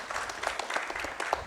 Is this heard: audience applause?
yes